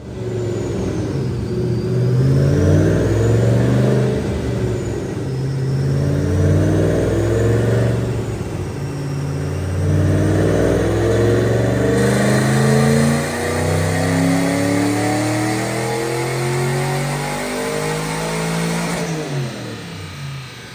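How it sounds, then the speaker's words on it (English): 2007 Mustang GT 3V with headers and a Paxton supercharger on a dyno pull, engine revving loudly through several rising gear sweeps with supercharger whine, close and continuous. "right now, check out this Dyno pull"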